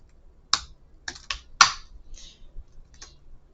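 Fingers type on a computer keyboard in short irregular bursts of crisp, close key clicks separated by brief pauses, with no other sound around them.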